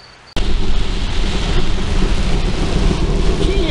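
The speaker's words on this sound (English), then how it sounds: "Gee, I think it might rain." Heavy rain pours down steadily after an abrupt onset, with deep rumbling thunder rolling underneath; loud, close and continuous, with no voices.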